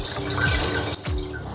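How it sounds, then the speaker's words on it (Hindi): Cold water being poured into freshly made chhena (paneer) for rasmalai, giving a steady close splashing, trickling pour that briefly dips and then resumes, with no talking. "अब हम इसमें ठंडा पानी और डालेंगे जिससे इसमें नींबू का जो रस है वो बिल्कुल ना रहे।"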